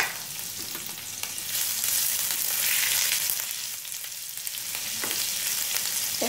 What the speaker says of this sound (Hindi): एक मिनट के लिए फ्राई कर लूंगी।